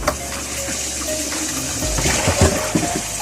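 Food is rinsed in a basin of water for the fifth time, with sloshing, splashing and trickling water close by, the swishing growing busier toward the end.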